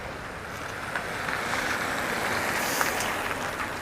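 Wind gusts in Reykjavik during a walk at Christmas, a constant broad roar buffeting the microphone with small thumps and no speech.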